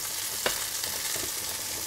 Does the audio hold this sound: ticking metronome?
no